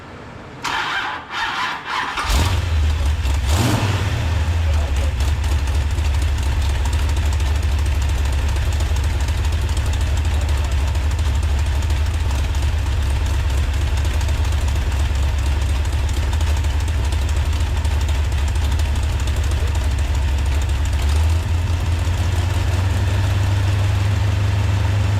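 A Mopar 440 V8 with a Comp Cams Thumpr roller camshaft cranks a few times and fires up, then settles into a loud, steady, lumpy idle that runs on without pause.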